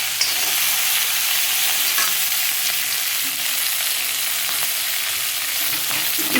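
Rice being stir-fried in a pan over a high flame for mixed vegetable fried rice, giving a steady, loud, close hiss of sizzling with scraping stirs throughout and no talking.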